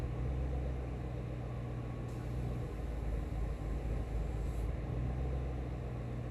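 Engine of a 2008 Ford Mustang idling rough and running lean, a steady low rumble with slight unevenness, recorded close with no talking.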